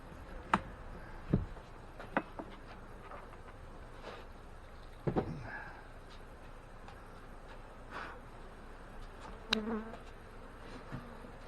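Honey bees buzz around an opened hive during a colony check, a soft steady drone with scattered louder passes near the microphone and a few light knocks from hive equipment.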